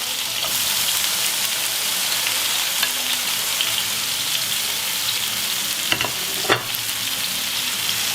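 Green pepper and tomatoes fry in a pan, a loud continuous sizzle with occasional scraping and clinks as the mix is stirred, close and steady throughout.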